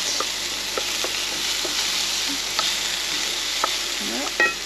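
Onion and zucchini fry in a pan with a steady, moderate sizzle, broken by a few soft clinks and utensil taps, and a short scrape near the end.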